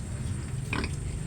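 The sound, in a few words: young female pigs grunting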